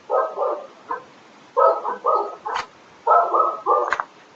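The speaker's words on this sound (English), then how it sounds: "And someone's dog is very happy." A happy dog barks close by in short, bright bursts. The barks come in three clustered groups of two or three, with quiet gaps between them and no voices over them.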